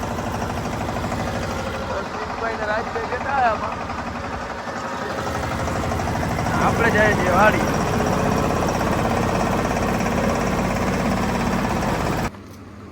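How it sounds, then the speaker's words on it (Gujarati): A mini tractor engine runs steadily close by, a low continuous rumble under conversation that cuts off near the end. "આપણે મિની ટ્રેક્ટર લઈને જઈએ છીએ વાળીએ ગાજર લેવા."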